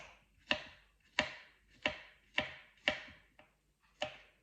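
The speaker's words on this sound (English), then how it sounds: "I'm just going to chop this up into little pieces" Fruit is chopped into small pieces on a cutting board for blueberry and banana pancakes, with six crisp knife strikes at a steady, slightly uneven rhythm, close and clear, each with a short decay, and no talking.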